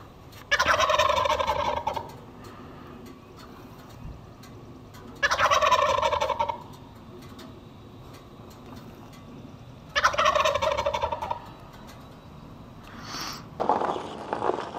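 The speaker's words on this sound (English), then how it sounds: "a couple tom turkeys over there gobbling away" Loud wild tom turkey gobbles burst out three times at intervals, rattling and close, with quiet outdoor ambience between them and a brief call near the end, in Cades Cove.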